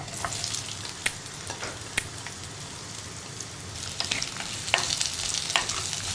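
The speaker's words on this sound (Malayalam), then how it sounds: "ഇത്രയും ചേർത്ത് നന്നായിട്ട് വഴറ്റിയെടുക്കുക സവാളയുടെ കളറൊന്ന് മാറി തുടങ്ങണം" Onion, ginger and garlic fried over a high flame for a fish curry: a constant crackling sizzle with sharp spatter pops and occasional stirring scrapes, close by, no voices.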